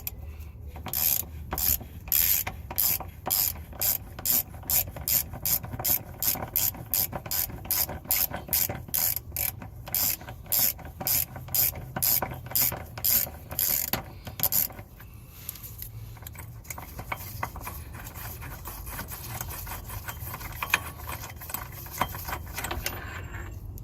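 Rapid ratchet wrench clicking close up as it turns a bolt on the rear suspension of an E36 M3, a steady run of sharp pawl clicks that slows, then gives way to quieter turning and scraping.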